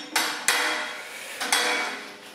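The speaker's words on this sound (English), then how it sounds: "Sorry about the noise, a bit rattly with the old" Old metal clips rattle against a shiny stainless steel wet and dry vacuum, a Vacmaster 20L industrial dust extractor, making a few sharp, close metallic clanks that ring out briefly.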